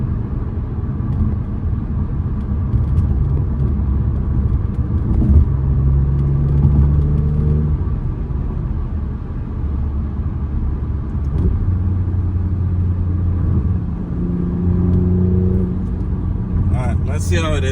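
Inside an Alfa Romeo Quadrifoglio on the move, the engine gives a low, steady rumble that swells briefly a couple of times as it revs, with a person talking over it.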